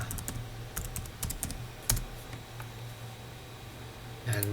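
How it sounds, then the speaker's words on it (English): Sharp clicks of someone entering a password on a computer keyboard, a quick irregular run of keystrokes over a steady low hum, ending in a louder burst of key taps. "now type our password"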